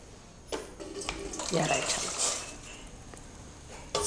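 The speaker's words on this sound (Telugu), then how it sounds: "ఇడ్లీ పాత్ర పెట్టేసుకొని వాటర్ పోసుకుందాం" Water pours into an idli steamer vessel, a close splashing gush that swells in the middle and then tapers off, with a person talking over it.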